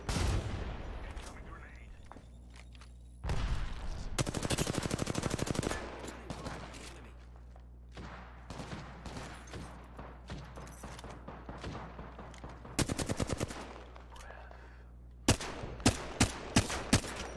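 Rapid gunfire in the Apex Legends video game, sharp automatic bursts and single cracks in clusters, some loud and close, others distant, amid game noise and quiet voice chat.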